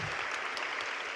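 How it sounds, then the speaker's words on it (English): An audience at a high school National Honor Society induction ceremony claps in a steady, moderately soft round of applause throughout. "So I want you all to give him a round of applause"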